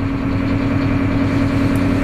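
A Massey Ferguson 8730S tractor engine runs steadily at 1200 rpm, a loud, even diesel drone with a low rhythmic pulse and no voices.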